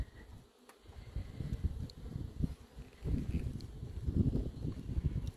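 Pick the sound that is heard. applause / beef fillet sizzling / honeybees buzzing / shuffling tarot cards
honeybees buzzing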